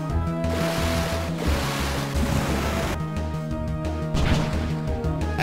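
The Surf attack in the Pokémon Black video game plays as a broad, continuous rushing wave whoosh that swells and crashes, layered over a looping, steady game music bed.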